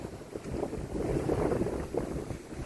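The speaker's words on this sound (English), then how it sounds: "At the moment there's plenty of wind and we're going in the right direction." Steady wind rushes over a sailboat under mainsail on the Mediterranean, a broad continuous roar with gusty swells and water movement, no voices.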